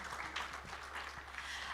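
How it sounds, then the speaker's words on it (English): Audience at a Kenyan moot court competition event applauding, a soft, fairly distant patter of clapping with a low steady hum beneath it. "Please welcome with a round of a warm applause"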